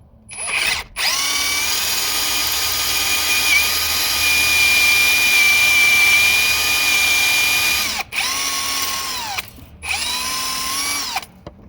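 A power drill bores out a camshaft pin on a Duramax diesel engine, lubricated with Tap Magic cutting fluid, in a loud, steady whine that runs several seconds, stops briefly and restarts in two shorter bursts.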